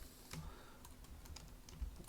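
Keystrokes on a computer keyboard entering a Linux terminal command, a quick run of close, fairly quiet clicks over about two seconds with no talking.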